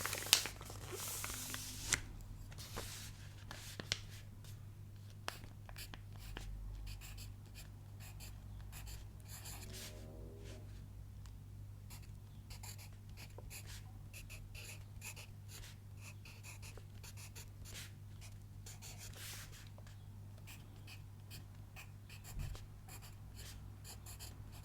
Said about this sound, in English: let's start with a pencil